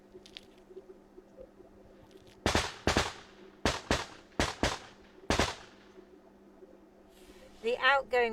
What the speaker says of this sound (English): The outgoing machine gun fire from the Ukrainians is aimed at suppressing the Russians so they don't fire back.